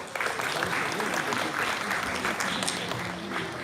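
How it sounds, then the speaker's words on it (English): Audience at a quiz event clapping after a correct answer, a steady round of applause with some voices mixed in. "Right answer. A round of applause."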